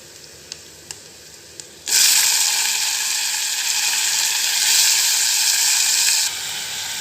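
Pumpkin pieces dropped into a hot pan with garlic and curry leaves set off a sudden loud, steady sizzle and hiss that carries on for several seconds, then eases slightly.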